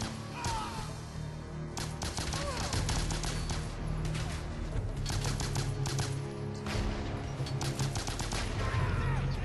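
Rapid bursts of gunfire from the Bionic Commando video game pop repeatedly over a dense, loud backdrop of game music and effects, with occasional clusters of shots.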